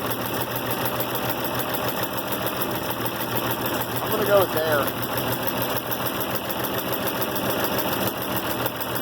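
An IH Farmall 706 tractor engine running on a new carburetor during a test run and adjustment, a steady rapid idle chug with a mechanical clatter, close by, while someone talks over it.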